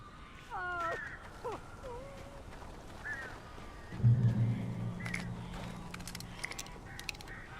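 Crows caw in a video game, several harsh calls early on, then a low droning rumble swells midway and lingers beneath scattered faint clicks and ticks; the cawing sounds near and fairly clear.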